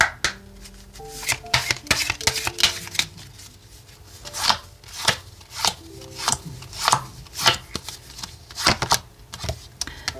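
Oracle cards are shuffled by hand during a tarot reading, giving a steady run of close, papery riffles and slaps in an uneven rhythm, with no talk over them.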